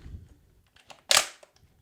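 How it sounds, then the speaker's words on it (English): Bolt of a CZ Scorpion EVO 3 S2 micro pistol being pulled back and locked open, a few faint handling clicks followed by one sharp metallic snap, close and with no talking. "So first, lock the bolt open."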